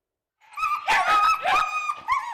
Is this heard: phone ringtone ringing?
no